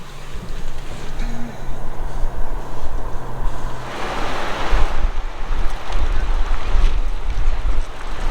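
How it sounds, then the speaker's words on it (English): Strong wind buffets and roars across the microphone in uneven gusts, with a low hum fading out partway through. "it's a little windy out today"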